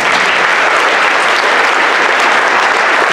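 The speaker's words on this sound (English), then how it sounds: "Please give another round of applause." A school audience applauds steadily at a fifth-to-eighth-grade winter band concert, dense loud clapping filling the whole stretch with no voices over it.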